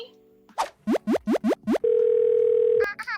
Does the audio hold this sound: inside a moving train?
no